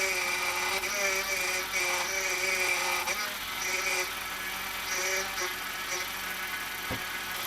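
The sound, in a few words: BMW 328i E90 power steering pump whining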